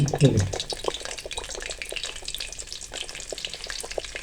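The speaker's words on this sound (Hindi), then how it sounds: "ऑयल हमारा प्री हीट हो चुका है। हम इसमें चिकन शामिल कर देंगे।" Crumb-coated chicken pieces for a zinger burger go into preheated oil and fry with a steady crackling sizzle and scattered pops, close and moderately loud, after a brief clatter at the start.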